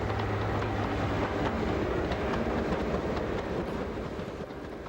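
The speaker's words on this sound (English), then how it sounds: "the unlikely spectacle of a high-speed train slowly snaking its way along the winding Weardale line" A high-speed train slowly snaking along the winding rural Weardale line, a steady loud rumble with faint rhythmic clatter, close by and gradually easing off toward the end, with no voices.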